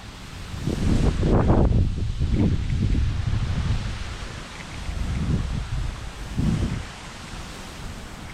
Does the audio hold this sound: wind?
yes